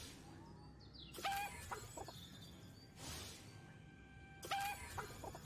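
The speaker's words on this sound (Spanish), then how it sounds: "¿Puedo hablar con la gallina?" A chicken in the video game Destroy All Humans! clucking in several short bursts spread across a few seconds, fairly close and clear over a low game background hum.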